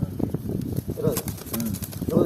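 Pigeons coo in low throaty bursts close by, mixed with people talking and some shuffling and wing movement.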